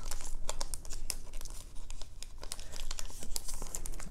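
Tape being peeled off a trading card package, with repeated crinkling and tearing crackles at close range in quick irregular bursts.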